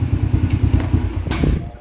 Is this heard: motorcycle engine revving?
yes